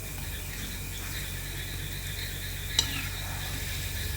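Gulab jamun dough balls frying in hot oil give a steady, even sizzle throughout, close by, with a single brief clink partway through.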